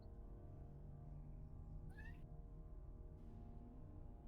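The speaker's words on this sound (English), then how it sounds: "Did y'all just hear my kitten meow?" A kitten gives a single short, faint meow partway through, heard over a steady low background hum with no talking.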